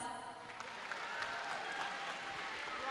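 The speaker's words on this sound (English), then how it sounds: "Please, a big round of applause for Team 24603 Puma Bots" An audience claps for robotics team 24603 Puma Bots at a FIRST Tech Challenge league tournament in Alberta, a faint, steady patter of applause with scattered cheers.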